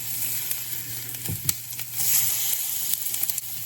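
Eggs fry in a pan and give off a steady close sizzle with soft crackles and a few stirring or scraping touches, with nobody talking.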